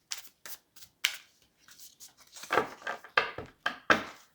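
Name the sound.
shuffling a deck of cards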